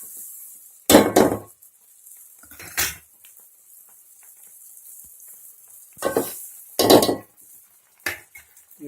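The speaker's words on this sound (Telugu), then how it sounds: "పచ్చివాసన పోయే వరకు వేయించుకోవాలి." A tamarind rasam mixture fries in a pan while a spoon stirs it in several loud, separate bursts of scraping and clinking against the metal. A faint sizzle continues in the quiet gaps between strokes.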